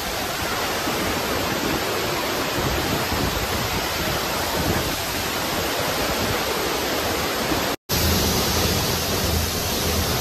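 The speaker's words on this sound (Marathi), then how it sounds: "बघू शकता आपण आलो आहे धबधब्याजवळ" A waterfall near Panshet roars as a dense, unbroken wash of falling water, loud and close, continuing steadily apart from one momentary cut.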